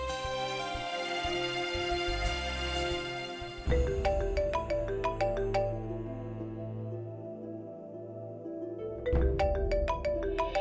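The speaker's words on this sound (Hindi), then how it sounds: "ये ले, मेरे फोन से डायल करती हूँ।" An electronic phone ringback tone after dialing plays a repeating melodic pattern, loud and close, with a short pause in the middle before the tune starts again.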